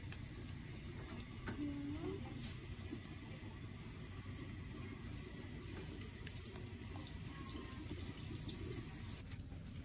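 Water runs steadily from a tap to wet cotton balls in a hospital room after a C-section birth: a continuous, fairly loud wash of hiss that holds evenly throughout with no clear voices over it.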